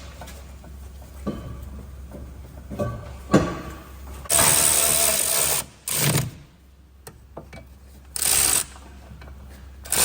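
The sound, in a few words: socket wrench bolting brake pad carrier back on, E12 socket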